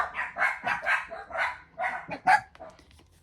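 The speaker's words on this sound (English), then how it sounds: "they got really barky" Dogs bark in a rapid run of sharp, fairly close woofs, about ten in three seconds, with a few higher yips among them and no talking.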